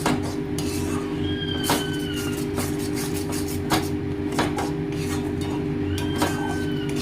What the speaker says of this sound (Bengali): দিয়ে এটাকে ভালো করে এইরকমভাবে নাড়তে থাকবো